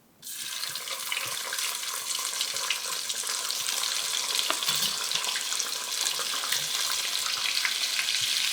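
Ginger garlic paste fries in oil in a small pan and gives a loud, continuous, close sizzle that starts abruptly and holds steady with faint crackles throughout.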